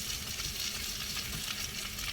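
Baby spinach cooks in a hot pan, a soft, steady sizzle and hiss running evenly throughout, fairly quiet and close, with no voices.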